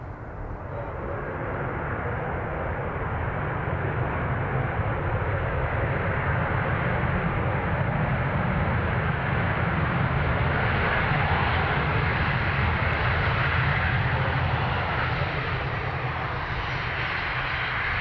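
Aircraft engines roar at close range at Dublin Airport, a loud, steady, broadband drone that holds for the whole stretch with no voices over it.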